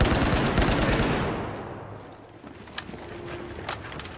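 Bursts of automatic gunfire in the video game Battlefield 4 on the Shanghai level, dense shooting fading out into scattered sharper shots and faint rattles, with no clear talk.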